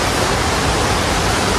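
Curug Kembar waterfall in Magelang, Central Java, a loud, steady, dense roar of falling water heard up close with no other sounds.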